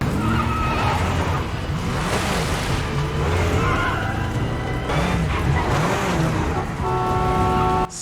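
A car is driven fast through a film scene from Twilight, with a loud, continuous engine roar that rises and falls in pitch, sweeping whines and tire noise, and a bright tonal sound near the end.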